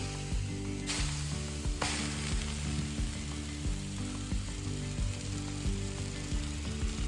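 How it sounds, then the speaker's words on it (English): Steaks hit an oiled Blackstone griddle and sizzle steadily alongside cooking jalapenos, a continuous loud hiss broken by metallic spatula scrapes and clanks, no talk. "we're gonna go ahead and throw our steaks on"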